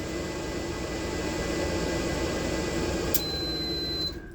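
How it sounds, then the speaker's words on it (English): A microwave oven running on a Giandel 2000W power inverter hums steadily with a broad whirring drone, then a short high beep sounds near the end before the hum cuts off. "I'm going to start the microwave"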